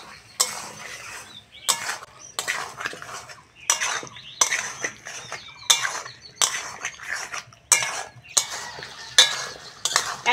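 Taro and potato stir-fried in a pan, with a spatula scraping and clattering in a steady rhythm of repeated strokes, close and fairly loud.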